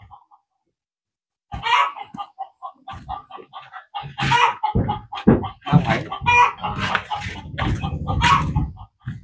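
Chickens cluck and squawk in a village yard of a Tày ethnic community, repeated bursts close by while people talk intermittently over them.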